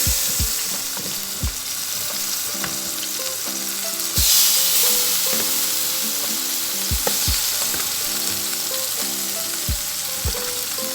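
Chicken fries in two spoonfuls of hot oil in a pan, holding a loud, steady sizzle with crackles and occasional bumps, with rhythmic music playing underneath.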